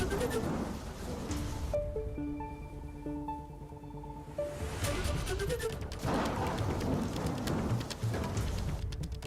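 Heavy monsoon rain falls on a waterlogged Bhiwandi street, a dense continuous hiss with splashing. A person talks over it partway through.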